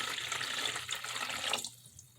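Warm or hot water poured into a bowl or bucket for a salt water experiment makes a steady rushing splash for about a second and a half, then stops abruptly, leaving near silence.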